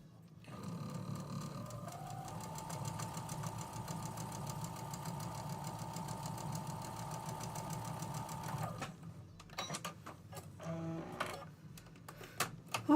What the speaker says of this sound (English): So now we just need to sew the rows together.